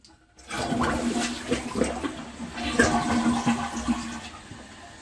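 A household toilet flushes with a loud rushing swirl, then the tank refills with a steady hiss of running water, heard close up with no talking.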